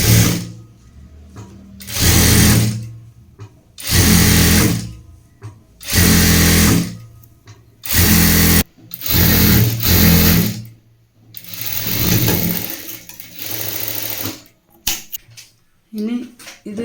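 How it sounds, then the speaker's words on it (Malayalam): Domestic sewing machine stitching the folded edge of a jilbab prayer dress, loud close bursts of rapid needle clatter repeating every second or two with brief pauses between runs. "ഇനി നമ്മൾ ഇതിൻ്റെ ഒരു ഭാഗം ഇങ്ങനെ മടക്കി തയ്ക്കുക."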